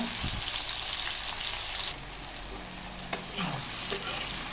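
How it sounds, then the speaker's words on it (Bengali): Fish roe with tomato frying in a pan, a loud continuous sizzle with scraping stirs and shifting crackle close by. "এখন একটু ভালো করে নাড়ে চেড়ে তারপর মধ্যে মশলা দিয়ে দিব।"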